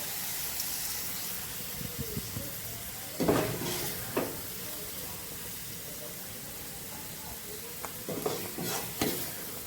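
Spice paste, cooked until the oil separates, sizzles and fries in a pan for khichuri while being stirred, with a steady low crackle broken by a few louder scraping stirs near the middle and end.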